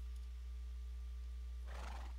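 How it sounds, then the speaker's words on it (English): Horse in a video game lets out a brief neigh near the end, rising over a steady low hum and faint background tone, with no talking. "We got Horsey McJones the Third here"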